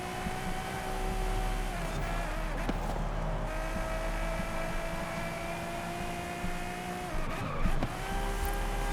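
A race car in Forza Horizon drives at speed, its engine holding a steady high whine with gear shifts and brief tire squeal, loud and continuous with no talk.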